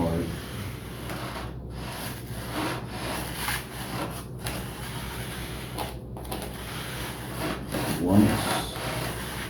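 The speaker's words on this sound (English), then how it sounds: "I'm just gliding the T-bar sander" Wood sheeting on a giant scale P47 Razorback horizontal stabilizer being sanded lightly with a T-bar sander, a steady rasping scrub with rhythmic back-and-forth strokes, under someone talking.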